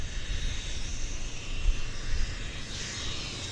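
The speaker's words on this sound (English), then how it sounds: "It's a Dreamliner. It's heading to Toronto as the Air Canada 116." Air Canada Boeing 787 Dreamliner jet bound for Toronto at Vancouver Airport, a distant, even engine rumble and airy roar that holds steady throughout.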